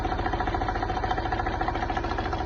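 A used car's engine idles steadily in an open engine bay with the oil filler cap removed, a continuous close mid-to-low rumble with slight rhythmic pulsing and no talk over it.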